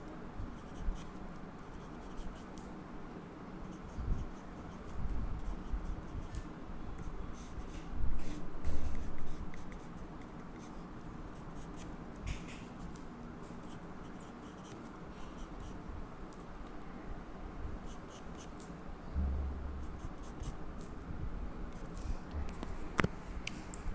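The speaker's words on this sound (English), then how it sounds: "I am going to draw the rough sketch" A pencil scratches a rough sketch on paper, continuous soft scraping strokes close by with short pauses and bursts of quicker marks.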